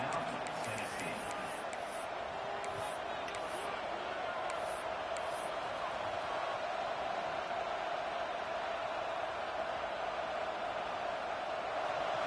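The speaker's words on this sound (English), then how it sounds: "Here comes this home crowd as the defense tries to get off the field on third down." A home crowd roars in a college football video game, a steady wash of distant cheering and noise that holds constant, with a voice talking over it.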